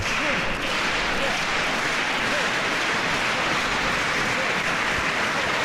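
A wrestling crowd at a DGUSA show roars and cheers steadily throughout, a dense, loud wash of applause and shouting urging the two athletes on with no letup.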